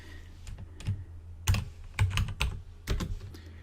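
A name is typed on a computer keyboard in several short clusters of crisp, close key clicks separated by brief pauses, with no talking.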